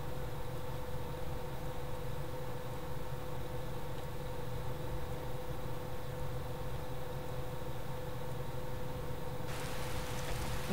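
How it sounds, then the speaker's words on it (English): Steady, even rain in the video game Skyrim, falling at a watchtower with a constant hiss and no voices, sounding like a continuous ambient loop. "And she wakes up to rain in the watchtower."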